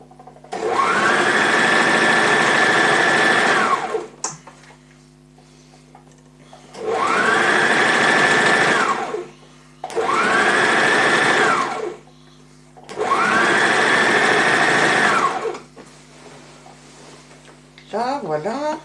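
A sewing machine stitches through skirt fabric in four loud bursts of rapid whirring, each a few seconds long, separated by short quiet pauses with faint fabric handling.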